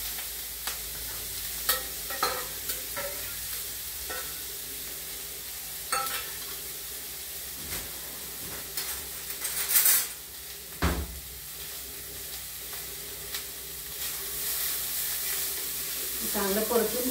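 Ground potato paste sizzles and is stirred in hot oil tempered with mustard seeds, cumin, asafoetida and turmeric for a potato paratha filling. A steady frying hiss runs throughout, broken by scattered spoon scrapes and clinks against the pan.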